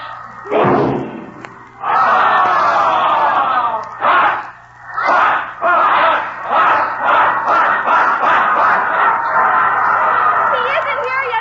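A group of voices performs a pop skyrocket cheer at a basketball game, imitating a rocket with a falling whistle before breaking into loud, sustained shouting and rhythmic chanted bursts.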